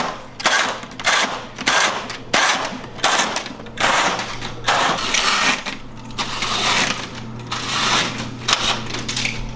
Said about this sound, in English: you draw the blinds down, make it pitch black